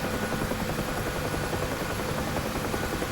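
A UH-1H Huey helicopter in flight in the DCS simulator makes a constant, fairly quiet rotor thrum and turbine whine with a steady rhythmic beat and no voices.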